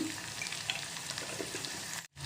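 Onions frying in oil for a Telugu-style amaranth leaf fry give a steady, close crackling sizzle throughout, broken by a brief near-silent gap toward the end.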